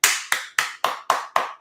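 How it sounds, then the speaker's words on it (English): Six crisp handclaps land at an even, fairly quick pace, close and distinct, like a single person giving a short round of applause. "round of applause."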